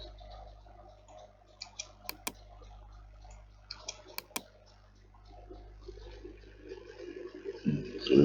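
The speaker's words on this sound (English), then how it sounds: "using my arrow key on the keyboard to move it close" Computer arrow keys tapped on a keyboard in sparse clicks, mostly paired quick presses spaced a couple of seconds apart, close and light over a steady low hum.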